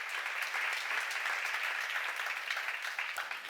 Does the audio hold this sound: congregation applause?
yes